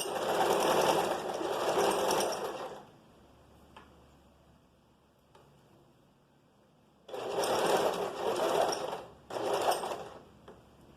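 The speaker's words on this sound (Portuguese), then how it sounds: "E vamos seguindo 1 centímetro de margem de costura." A sewing machine runs a seam along a vest at a 1 cm margin in two bursts, a steady run of about three seconds, a quiet pause with faint handling, then two shorter runs close together near the end.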